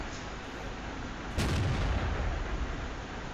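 A single heavy cannon shot from a VK 45.02 A tank in World of Tanks, a loud, close boom that rings out over a constant background of engine rumble.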